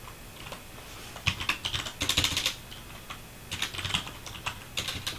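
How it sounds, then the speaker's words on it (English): Keys clatter on a computer keyboard in uneven clusters of quick taps separated by short pauses, close and moderately quiet, typed at an awkward angle during a Debian install. "typing from an awkward angle is always fun"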